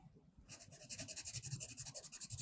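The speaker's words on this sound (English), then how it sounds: "by making a mark with your pencil that's really dark" Pencil scribbling back and forth on paper to make a dark mark, a close, steady rasping rub in quick repeated strokes starting after a short pause.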